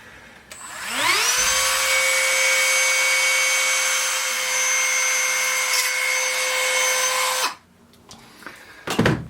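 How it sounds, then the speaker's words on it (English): A Dremel rotary tool fitted with a multi-purpose cutting bit spins up and grinds steadily against the plastic of a Hot Toys Iron Man figure, a loud sustained whine lasting several seconds before cutting off, followed by faint handling noises. "We twist open our drill bit with the lock here and get the multi-purpose cutting bit"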